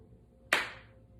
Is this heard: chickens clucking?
no